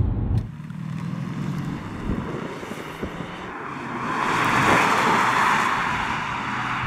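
Engine note of a 2021 Cupra Leon heard from inside the cabin, fed through a resonance box in the hood, a low steady drone that swells into a fuller, louder roar midway as revs rise.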